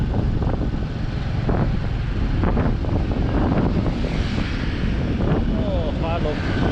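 Wind roaring across the microphone while riding through central Vientiane, Laos, near the Patuxai area, a loud continuous buffeting rumble with faint traffic-like texture throughout.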